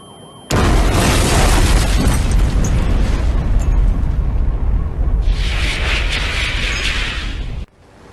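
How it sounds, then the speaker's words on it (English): A loud, sustained explosion from the 1996 video game Twisted Metal 2 erupts suddenly in a deep roar with crackling debris, then cuts off abruptly after about seven seconds. "I'm scared the explosion will hurt."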